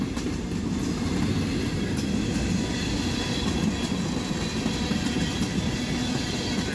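A CSX freight train rolls past at night in Lufkin, Texas, with a loud, continuous rumble and faint clickety-clack of wagons throughout, close by and with no voices.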